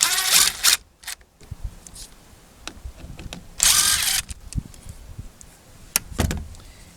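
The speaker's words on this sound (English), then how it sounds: "Just take off these 4 screws." Power drill backing out screws from the plastic housing of a 2004 Toyota Avalon rear subwoofer, in several short whirring bursts separated by pauses and small clicks of parts being handled, close and fairly loud.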